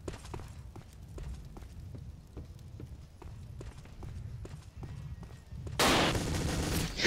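Pistol shots in the dinosaur shooter game Dino D-Day crack out in a fairly regular run of sharp reports, close and moderately loud, ending in a louder burst of noise.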